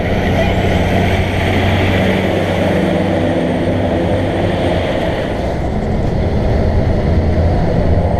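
An empty truck's engine chugs hard and steady at close range, a continuous loud rumble for the whole stretch, with a slight dip in the middle.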